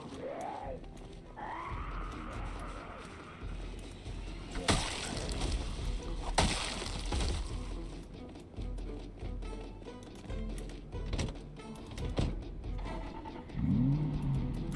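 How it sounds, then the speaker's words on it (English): Ambulance engine in Project Zomboid starting and idling, a steady rumble with occasional revving swells and a few sharp knocks, running throughout. "Now let's go turn on our ambulance"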